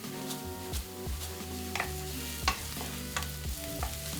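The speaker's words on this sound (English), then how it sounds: "Get out a frying pan, saute the onions in a little vegetable oil." Onions and garlic in a little vegetable oil sauté in a frying pan, with a steady sizzle and repeated stirring scrapes, a few sharper clinks of the utensil against the pan.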